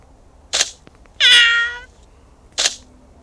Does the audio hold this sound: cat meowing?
yes